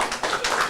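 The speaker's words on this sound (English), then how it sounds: "Could I ask you please to give a round of applause to NAED?" Audience applause at a discussion event on fake news and hate speech: a short burst of dense, steady clapping from a crowd, with no voices over it.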